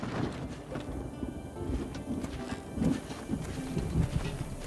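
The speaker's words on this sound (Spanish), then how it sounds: "Me gusta lo de los truenos," Low, rolling thunder rumbles in the video game Wartales, a continuous deep grumble that swells in several waves, with no clear speech over it.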